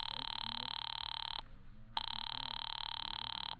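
An old-fashioned telephone bell rings loud and close in a vintage radio mystery drama, two long bursts separated by a short pause.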